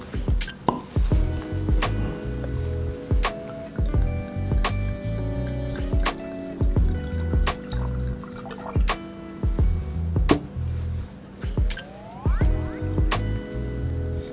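Pinot Noir glugs from a bottle into a glass in a kitchen, close gurgling pulses and splashes in bursts with short gaps between pours.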